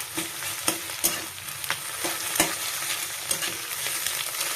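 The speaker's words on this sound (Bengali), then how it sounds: "ডিমটা সুন্দরভাবে ভাজা হয়ে গেছে।" Two eggs frying in a pan for a papad pasta dish, a steady broadband sizzle broken by repeated sharp scraping strokes of a spatula stirring, close and fairly loud with no talk.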